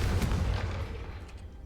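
A Confringo explosion spell in Hogwarts Legacy, a deep booming blast that hits hard at the start and then rolls off into a fading rumble, with no talk over it.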